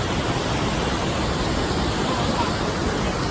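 Rhine Falls, Europe's largest waterfall at Schaffhausen, Switzerland, seen from above: a loud, steady roar of crashing water filling the whole stretch without a break.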